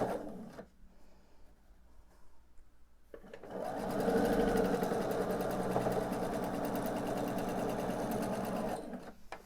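Close, loud steady whir of a sewing machine stitching a quilt block seam for an Infinity Stones quilt, running continuously for about six seconds after quieter fabric handling.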